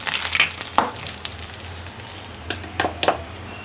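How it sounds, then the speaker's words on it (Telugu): Dried red chillies dropped into hot oil for a tempering, giving light crackling sizzles with a few sharp clinks and bursts scattered across the moment, close by and fairly quiet, with no talking. "ఈ విధంగా ఆయిల్ హీట్ ఎక్కినాక ఎండుమిర్చి వేసుకుందాం."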